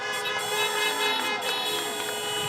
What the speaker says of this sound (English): all the cars honking